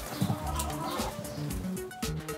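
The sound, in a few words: four hens clucking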